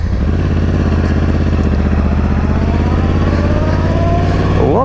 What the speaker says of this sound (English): Fire up the engine. Ooh, that rumbling sound.